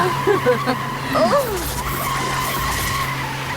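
A car skids as it is driven around in circles in a TV serial scene, a loud continuous tire-screeching roar under a woman's raised, anxious voice.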